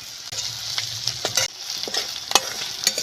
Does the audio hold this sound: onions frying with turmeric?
yes